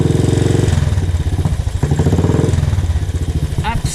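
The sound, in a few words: Royal Enfield Classic 500 motorcycle engine running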